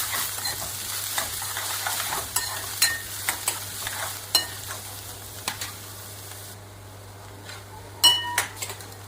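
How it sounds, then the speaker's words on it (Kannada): Ginger and onion frying in a pan for a green pea and fenugreek leaf gravy, with steady sizzling under repeated sharp clinks and scrapes of a spoon against the pan. "ಚೆನ್ನಾಗಿ ಫ್ರೈ ಮಾಡ್ಕೊಳ್ಳಿ."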